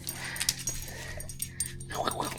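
A puppy's small yips and whimpers come in short bursts, near and fairly quiet, with people talking intermittently alongside.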